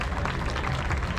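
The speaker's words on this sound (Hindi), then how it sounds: "सबके लिए जोरदार तालियां बजाइए" A crowd at a horse show breaks into dense, sustained clapping, a short loud wash of applause with no clear voices.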